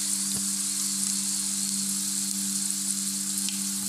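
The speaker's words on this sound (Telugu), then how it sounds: "వేగిన తర్వాత వేరుశనగ కలిపి వేసుకోండి ఇది కూడా చక్కగా ఫ్రై చేసుకోండి" Peanuts and chana dal frying in oil, a steady close crackling sizzle with a faint low hum underneath, continuous throughout with no voices.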